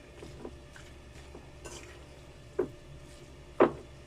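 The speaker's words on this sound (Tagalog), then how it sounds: "Mix natin ulit." A spoon stirs an onion, garlic and mushroom filling for cabbage rolls in a bowl, giving a few soft scrapes and two sharper clinks of utensil on dish, close and otherwise quiet.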